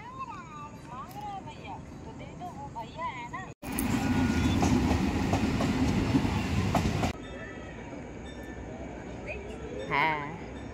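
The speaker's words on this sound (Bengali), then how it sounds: "ওই দেখ পাপার ট্রেন ঢুকে গেল" A train pulls into a station, its loud rumbling roar and clattering wheels filling the middle of the recording, with voices and chatter before and after.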